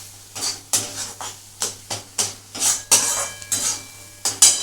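Masala for a Bengali duck egg korma is sautéed in a pan, with a spoon scraping and knocking against the metal in a steady rhythm of about a dozen sharp strokes, close and clear.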